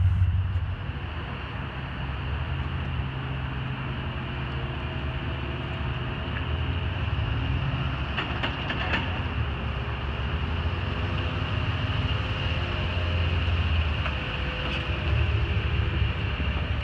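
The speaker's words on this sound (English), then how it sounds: "Damn dozer driving by in the middle of making this video." A bulldozer rumbles past on a steady low engine drone with faint clanking, heard continuously at moderate distance beside a lifted 2006 Ford F-150 Lariat 5.4L V8 4x4.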